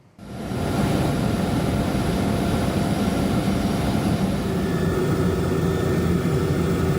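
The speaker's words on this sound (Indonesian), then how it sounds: "Inilah visual yang direkam melalui helikopter milik TNI Angkatan Udara." An Indonesian Air Force helicopter in flight gives a loud, steady engine and rotor drone that starts abruptly and holds constant throughout, with no voices.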